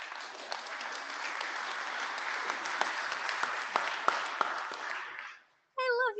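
An audience at an IETF lightning talk session bursts into sustained applause, dense clapping with scattered sharp hand claps, fading out near the end before a brief voice starts.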